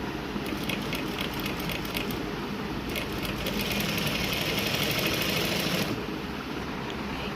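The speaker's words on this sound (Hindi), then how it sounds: "बारीक बारीक सिलाई लगाते हैं।" A sewing machine stitches fine pintucks along a neckline, giving a steady, fast mechanical whir with a constant rhythmic chatter. It runs alone and unbroken from start to finish, with a brief dip near the end.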